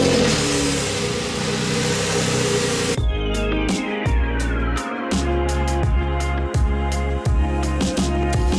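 A Porsche 997 Carrera S with a Tiptronic gearbox accelerates on the road from inside the car, its loud engine note climbing steadily in pitch after a rushing start, with no talk over it.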